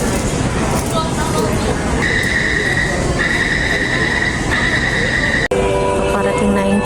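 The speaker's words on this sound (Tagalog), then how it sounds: "Parating na yung train." Train pulling into a station, rumbling rail noise with repeated high squealing tones from the wheels or brakes, loud and close amid crowd babble, with a sharp clack near the end.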